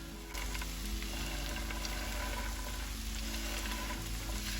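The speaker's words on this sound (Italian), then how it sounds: "ora che abbiamo tritato le carote possiamo aggiungerle in padella" Chopped carrots sizzle in a frying pan with a steady, dense hiss. A constant crackle fills the whole stretch with no voices.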